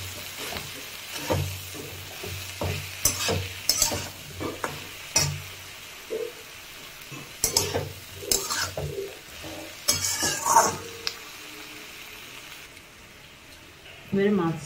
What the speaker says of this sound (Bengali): ফ্লেমটা মিডিয়াম করে দিলাম, মিডিয়াম ফ্লেমে এটাকে ভালো করে এবারে কষিয়ে নেব।